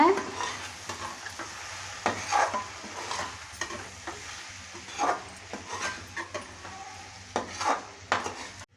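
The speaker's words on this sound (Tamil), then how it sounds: "எல்லாம் சேர்த்து ஒரு வதக்கிக்கோங்க." Spices with turmeric powder and salt sizzle and fry in a pan for a village-style dried fish curry while a utensil stirs and scrapes in irregular bursts, fairly close, with no talking.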